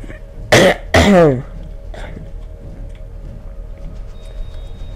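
A person gives two short, close coughs, more like throat clearing, back to back near the start, then only a quiet room hum.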